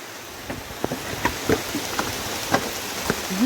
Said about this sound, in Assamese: এতিয়া বহুত জোৰে বৰষুণ দিছে